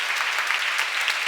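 A church seminar audience claps together, a brisk, even burst of many hands at close range with no voices over it.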